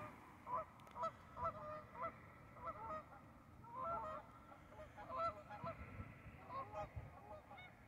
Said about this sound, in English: Got a goose.